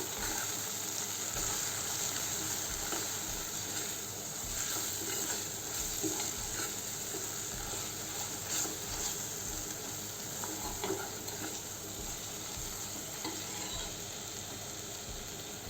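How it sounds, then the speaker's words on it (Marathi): Paneer bhurji cooking in a frying pan, with salt and garam masala being stirred in: a steady, soft sizzle under light scraping and stirring, continuous and fairly quiet, with no voices. "मीठ अर्धा चम्मच, गरम मसाला अर्धा चम्मच आणि चांगल्याने फिरवून घेऊ।"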